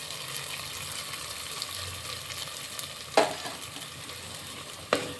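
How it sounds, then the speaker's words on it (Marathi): Powdered spices frying in oil for a Maharashtrian mutton rassa, a soft steady sizzle with a couple of sharp clinks from stirring in the pan. "ते पण दोन मिनटं चांगले तेलामध्ये फ्राय होऊ द्यायचे"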